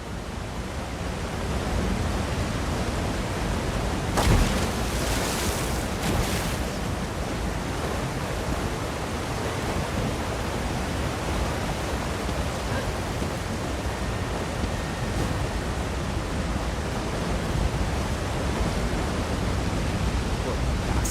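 Waterfall beside a cave in The Elder Scrolls Online, a steady, dense rush of falling water that holds even and loud throughout, with a few brief brighter splashes early on.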